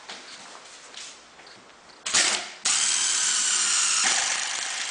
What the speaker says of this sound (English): I could drill in this side